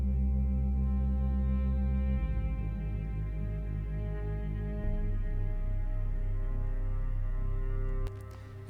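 Layered synth patches, including the Drift patch Darkened Strings, sustain dark droning tones with a low pulsing bass that shifts in pitch partway through, steady and smooth until a brief click near the end.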